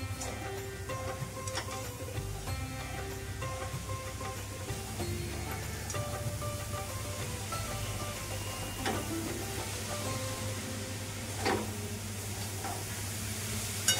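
A wet coconut vadi mixture of fresh coconut is stirred in a pan, with a soft continuous sizzle and faint scraping of the spoon, low and steady with a few sharper clicks.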